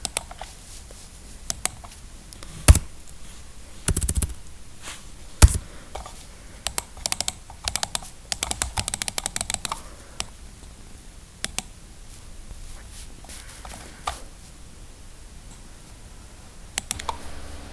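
Keys clatter on a computer keyboard, typing a search for Photoshop in short bursts of close, crisp clicks and taps, with a few louder thumps and pauses between runs.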